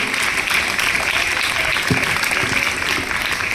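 A school audience claps at a Mission Green India event, a continuous crowd applause that stays loud and even across the clip with no break.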